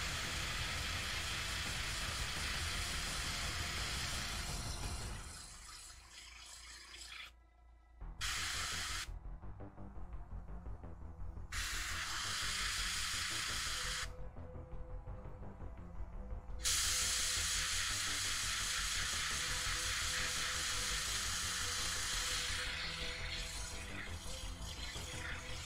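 Airbrush or spray gun hissing steadily while spraying a green glow paint effect, with long continuous bursts broken by a few short pauses, loud and close with no talk.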